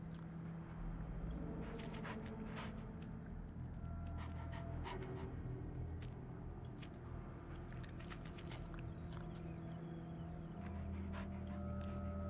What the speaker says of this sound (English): Why do I hear a dog? Is there a dog in here?